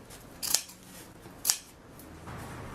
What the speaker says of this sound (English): So just make some snips like this